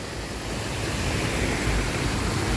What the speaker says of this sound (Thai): โอ้ตอนนี้ น้ำเริ่มมาแล้วครับ